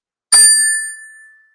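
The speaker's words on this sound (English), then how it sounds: "I'm going to use a little chime here." A small chime is struck once to clear the space, giving a bright ringing strike with several clear overtones that decays slowly and fades out over about a second, heard alone.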